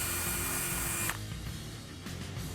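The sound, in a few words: drilling out a rivet hole to 5/16 inch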